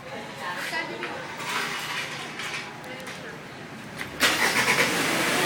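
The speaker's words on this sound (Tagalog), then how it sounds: "Kusa mag-start ng ating sasakyan." Mitsubishi Pajero engine starting by remote starter: quiet idle ambience, then a sudden crank at about four seconds that catches into a steady running engine nearby.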